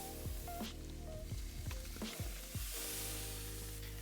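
Shrimp and salmon placed on an oiled gas grill at medium-high heat, a steady sizzle with soft squishy thuds as pieces land, close and continuous under a faint hiss.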